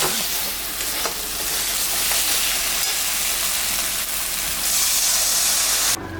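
Water poured into fried spices for a boal fish curry: a loud, steady rush and hiss filling the pan, rising slightly near the end before cutting off abruptly.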